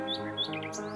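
A bird sings along with a lullaby in a fairy-tale story, giving quick high chirps and tweets over soft, sustained music, heard only briefly.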